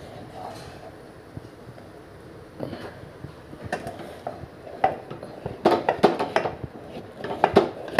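Spoon scraping and knocking against a pot while besan flour is stirred into boiling water, sparse at first and then becoming brisk, clustered clatters toward the end.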